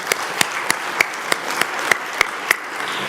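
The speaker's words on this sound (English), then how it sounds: "we can clap" A small group at a high school graduation convocation claps in sparse, separate hand claps rather than full applause, about eight distinct claps spread unevenly across a few seconds.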